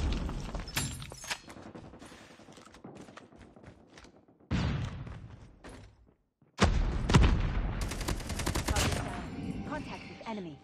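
Bursts of KN44 rifle fire in a first-person shooter game, rapid automatic volleys in several loud clusters separated by brief pauses, with sharp impacts mixed in.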